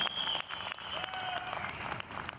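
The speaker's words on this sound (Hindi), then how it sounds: "एक बार जोरदार तालियां अपने लिए" Audience applause at a Vestige company event in India, a brief wash of clapping at a moderate, fairly distant level, with a faint voice or tone running underneath.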